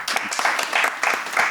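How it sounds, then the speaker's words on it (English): Short bursts of audience clapping after a startup pitch on ocean cleanup, loud and close, rising and falling in uneven surges over a second or two. "Let's give him a big round of applause."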